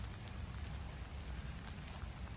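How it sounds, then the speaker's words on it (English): Steady rain falling through trees along a wooded trail in Florida, a soft continuous patter with low rumbling background, faint and even throughout. "It's raining pretty good."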